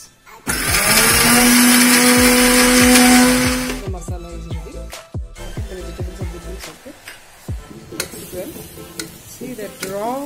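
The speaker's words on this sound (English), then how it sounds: "it's better to add it into the grinder, grind it well, then add to the grinder masalas" Kitchen grinder blitzes coriander and masala in a loud close whirring burst lasting about three seconds, then stops. Stirring and sizzling from a pan of cluster beans and potato curry follow with scattered clinks.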